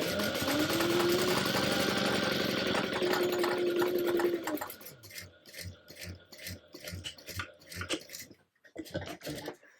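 A sewing machine top stitching binding on a garment runs in a steady whirring burst for several seconds, then stops, followed by quieter handling clicks and rustles.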